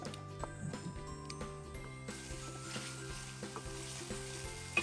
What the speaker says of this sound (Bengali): এগুলো তেলের সাথে একটু ভালো মতো করে কষিয়ে নিব।